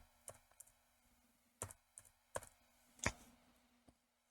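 A computer keyboard being tapped by someone working in a KiCad design program: a handful of separate, quiet key presses with irregular gaps, heard close up in an otherwise quiet room.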